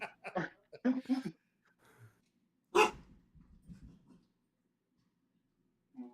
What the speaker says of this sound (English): The dogs are going apeshit, as per usual.